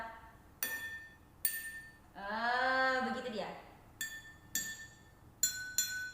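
Glasses, some filled with water and some empty, are tapped with single bright ringing clinks, a few apart with a pair near the end, while someone speaks briefly in between.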